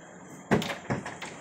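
A hotel room door is tried but won't open, giving a couple of sharp rattling knocks and handle clunks in quick succession, close by in a quiet room.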